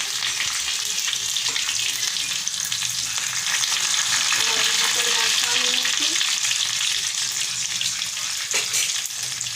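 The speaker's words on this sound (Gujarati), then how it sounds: "લસણ ઉમેરી દઈશું અને આ મરચાં પણ ઉમેરી દઈશું અને સાથે આ કડી પત્તા પણ ઉમેરી દઈશું" Garlic, green chillies and curry leaves crackle and sizzle steadily in hot oil for a dal tempering, a dense, continuous frying hiss with occasional stirring, close and loud with no talking.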